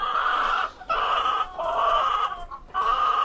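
Several chickens cluck loudly and close by in short bursts separated by brief pauses, a busy, repetitive squawking with no talk over it.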